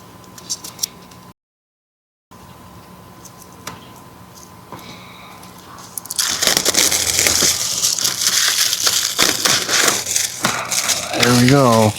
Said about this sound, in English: I gotta peel the plastic off